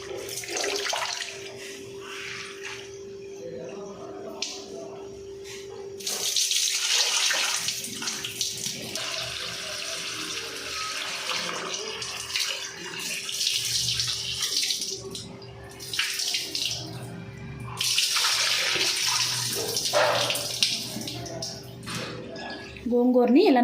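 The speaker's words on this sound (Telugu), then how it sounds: "ఇసుక అదంతా ఏం లేకుండా గోంగూరని నీట్గా వాష్ చేసుకోవాలి." Gongura (sorrel) leaves being washed in water in a kitchen, a steady running and splashing wash of water continuing throughout, close and fairly loud, with a voice talking over it at times.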